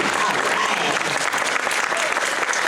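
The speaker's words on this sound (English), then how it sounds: "How about a round of applause for Barbie" Theme-park audience at the Universal Studios Florida horror make-up show breaking into dense, loud applause and cheering that fills the space without pause.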